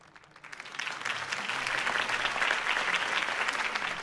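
A crowd at a campaign rally in Batman - The Telltale Series breaks into applause that swells within the first second and then holds as a steady, dense clapping roar.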